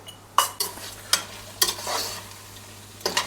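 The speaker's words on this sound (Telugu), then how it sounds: "ఇప్పుడు కూర కొంచెం దగ్గర అయింది కాబట్టి దీంట్లో గరం మసాలా వేసుకోవాలి వేసుకొని కలుపుకొని పక్కన పెట్టుకోవాలి" A spoon stirs chicken curry in a pan after garam masala goes in, several sharp scraping strokes over a low sizzle, close and clear with no speech.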